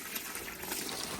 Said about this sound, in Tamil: இனி இதுக்கு இந்த வயரால் ஃபுல்லாக இதுக்குள்ளே தண்ணி அடித்து நிரப்புவோம்